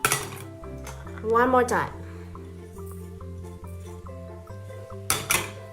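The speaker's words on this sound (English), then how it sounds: "Mix them together." Spring roll filling is mixed in a bowl, with scattered clinks and knocks of a utensil against the dish and a couple of louder scrapes, while a person talks throughout.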